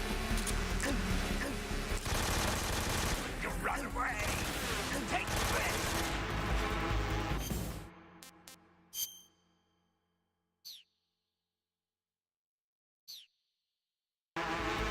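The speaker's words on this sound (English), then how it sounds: "I'm gonna shoot you now" Dense, loud gunfire and action noise from the video game Metal Gear Solid 3 Snake Eater rage for about eight seconds, then cut off into near silence broken by a few brief, isolated sharp shots.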